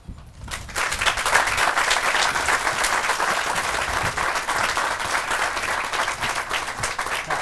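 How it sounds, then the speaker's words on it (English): A crowd at a groundbreaking ceremony bursts into loud, sustained applause after a brief quiet start, dense clapping continuing steadily to the end. "give yourselves another round of applause"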